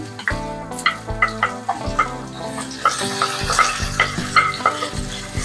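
Onions sizzle and crackle in hot oil for a fish curry, with a steady bright frying hiss, repeated stirring scrapes and some harmonic background tones throughout.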